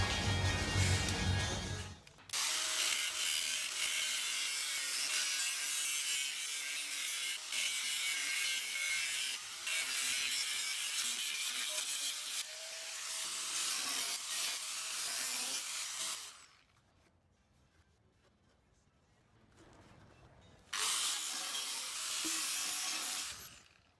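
A power tool cutting open a double-skinned vehicle pop-top roof panel, a loud continuous buzzing grind in long runs, pausing briefly before resuming, up close and with no talking.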